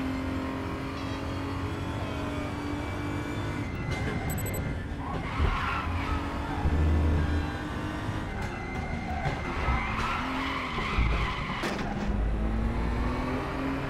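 Race car engines whine and shift gears while tires skid and squeal in short bursts during a multiplayer BMW race in the game RaceRoom, with a synthetic feel.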